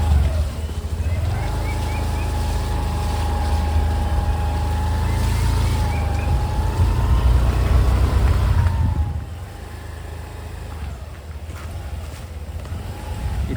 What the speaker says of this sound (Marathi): पर्यंत बाईक येते पण थोडेसे ऑफ रोड आहेत मध्ये दगड वगैरे आलेले आहेत तेव्हा पप्प्या सावकाश सावकाश गाडी नेतो